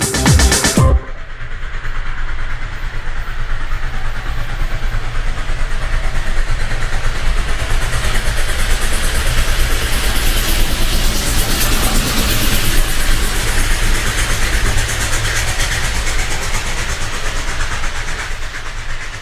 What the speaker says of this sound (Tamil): நம்ம ட்ரெயின் இப்ப பாலத்து மேல போயிட்டு இருக்கு